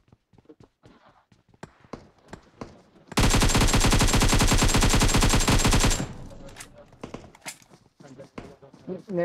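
Video game gunfire in a squad-versus-squad match: a loud sustained automatic burst lasting about three seconds, framed by scattered single shots and clicks before and after.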